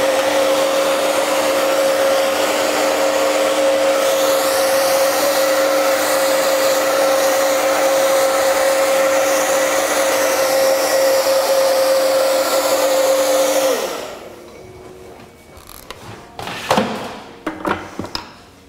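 A handheld hair dryer blows steadily on hair being scrunch dried to bring out curls, a loud constant whine for most of the stretch before it switches off, leaving a few soft handling clatters.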